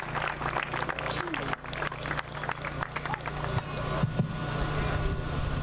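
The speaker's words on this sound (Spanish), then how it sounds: "Un aplauso." Audience applause at a commemorative ceremony honoring martyrs, a dense continuous wash of clapping over a low steady hum, moderately loud and building slightly toward the end.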